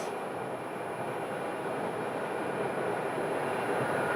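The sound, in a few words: airplane taxiing at Phoenix airport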